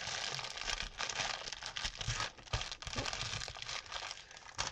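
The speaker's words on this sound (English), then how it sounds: "sorry for the crinkling." Plastic packaging from a diamond painting kit crinkles and crackles close by, a soft but busy stream of rustling and crunching that carries on throughout with no talk.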